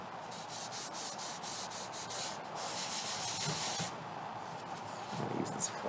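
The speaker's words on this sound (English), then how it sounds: "I'm going to be going to my cotton swab right here since it's a little bigger area" Cotton swab rubbing and blending pencil shading across paper, a soft continuous scratchy swishing with light strokes, close and fairly quiet throughout.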